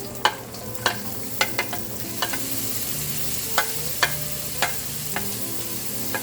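Carrot pieces go into a hot pan of sizzling shrimp fried rice, a steady fry hiss broken by a series of sharp clinks and scrapes as the food is tossed, close and with no talking.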